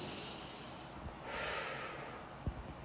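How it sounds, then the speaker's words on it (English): One slow, close breath drawn in through the nose during a headache-relief exercise, a soft airy hiss that swells and fades, with a small sniff after it and no talk. "breathe in through the nose"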